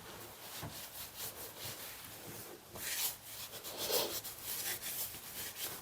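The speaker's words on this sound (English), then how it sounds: "I'm just going to wipe the sink out, wipe the sink off" A cloth wipes out a sink during quick house cleaning, giving soft, steady rubbing strokes that swell and fade in uneven bursts, close by and fairly quiet, with no talking.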